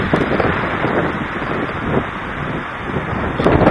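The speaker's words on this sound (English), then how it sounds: "Hear that wind?" Wind blowing outdoors in cold weather, a steady rushing roar buffeting the microphone with low gusty rumbles throughout, loud and continuous.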